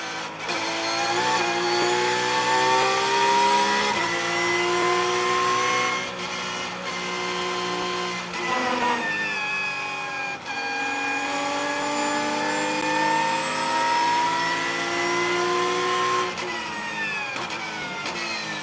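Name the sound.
race car taking turn 7 in 3rd gear at Sonoma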